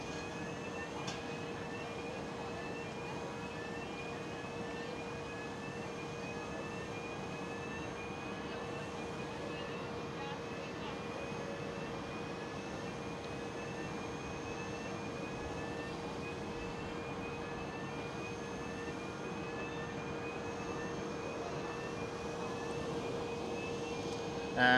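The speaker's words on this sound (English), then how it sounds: "Turkish Airlines A330 pushing back." A Turkish Airlines Airbus A330 pushing back at Amsterdam Schiphol airport, giving a steady, continuous engine hum and whine with a fixed tone, moderately distant and unchanging throughout, with no talk.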